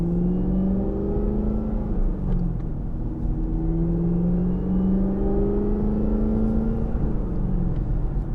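Deep, throaty rumble of a Gen6 Camaro engine fitted with an intake mod, rising and falling through revs, steady and fairly loud with no voices.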